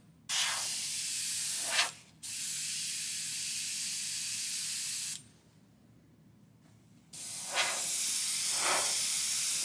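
A scale-model airbrush sprays paint at high air pressure in three long, loud, steady hissing bursts separated by short pauses, with no talking.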